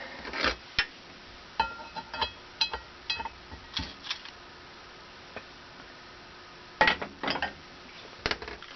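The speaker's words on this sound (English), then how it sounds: "Now I put my lid back on." Metal lid set back onto an antique Sears Roebuck potbellied wood and coal stove, giving a series of sharp clanks and clinks spread across the clip, with a louder cluster of metallic knocks near the end.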